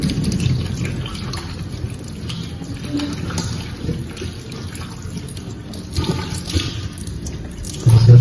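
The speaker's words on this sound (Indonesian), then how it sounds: "kemudian kita bilas menggunakan air yang mengalir" Tap water runs steadily while hands are rinsed under it during a handwashing demonstration, a continuous splashing wash at close range that grows briefly louder at the very end.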